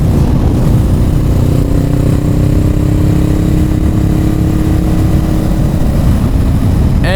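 A 2019 Honda Rebel 500 (500cc) motorcycle cruising in sixth gear near 50 mph: a steady, loud engine drone blended with heavy wind rush, continuous throughout with a slow, slight rise in pitch.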